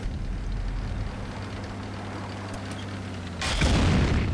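An artillery shell slams into the player's tank in a tank battle video game, a heavy booming impact bursting loudly over a steady low engine drone near the end.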